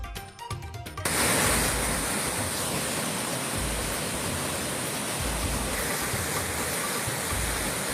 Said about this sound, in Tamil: தென்காசி குற்றால அருவிகளில் வெள்ளப்பெருக்கு ஏற்பட்டுள்ளதால் குளிக்க தடை.